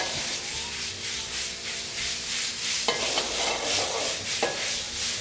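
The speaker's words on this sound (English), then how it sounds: "Now, as we saute the vegetables are picking up a little bit of color as well." Artichoke and tomato sautéing in a pan, giving a steady close sizzling hiss with brief scraping stirs partway through, no voices.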